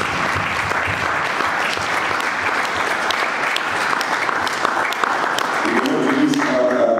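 A church congregation applauds in acclaim of the Lord, with dense, sustained clapping from many hands that fills the room throughout and a voice briefly audible near the end.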